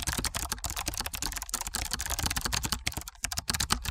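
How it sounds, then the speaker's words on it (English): Rapid typing on a computer keyboard, close and steady, with dense key clicks running nonstop for a few seconds and no voice over it. "Inside this, let's type private."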